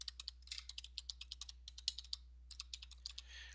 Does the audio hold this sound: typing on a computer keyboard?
yes